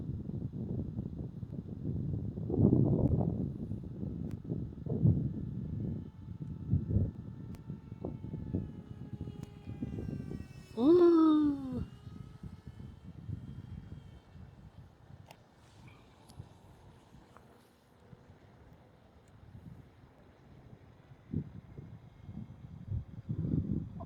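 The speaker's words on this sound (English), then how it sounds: "Let's come in for a low pass." A small AtomRC Dolphin Pro model airplane's electric motor whines past, its pitch sweeping up and then dropping as it passes low, amid wind noise and some gusts.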